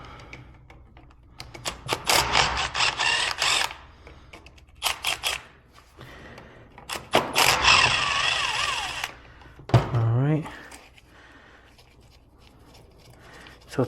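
A ratchet works loose 8mm bolts on a clutch assembly, close bursts of rapid clicking separated by pauses, with a few clanks and handling noises.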